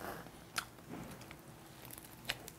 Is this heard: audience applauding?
no